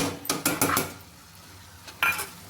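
A spoon stirs chopped tomatoes and green chillies into masala in a pan: several quick close clinks and scrapes, a pause, then one more burst of stirring, with no voices.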